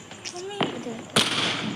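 Two sharp, loud bangs of Diwali firecrackers burst out, one near the middle and a bigger one shortly after, over a faint background with a bit of voice.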